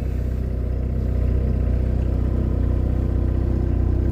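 An Isuzu engine that had been frozen idles steadily right after its first key start, giving a continuous low, even rumble with no pauses.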